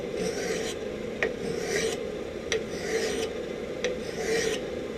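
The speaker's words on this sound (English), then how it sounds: "Now let me grind it down some so that you guys can see it" Rough abrasive strokes from a forged spike knife blade being ground down, a steady rasping scrape with sharper clicks roughly every second, close and fairly loud with no voices.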